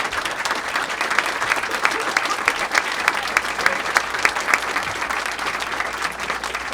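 An audience breaks into sustained, lively applause to welcome Governor John Kasich at a book event, a dense crowd of hands clapping steadily and loudly from start to finish.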